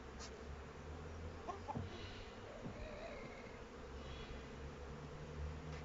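Bees hum steadily across a hive during the first honey harvest of 2020, frames being lifted and shaken, a continuous faint droning buzz with soft handling noises.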